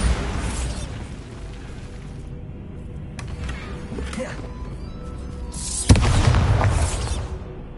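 A Bombarda spell blast in Hogwarts Legacy: a single sharp explosive boom late on, over a low rumbling game ambience with a few soft bumps before it.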